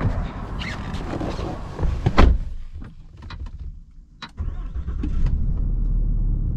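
A lifted Ram Limited Cummins diesel pickup with about 50,000 miles cranks and starts amid door and cabin clicks, then settles into a steady low idle heard from close by.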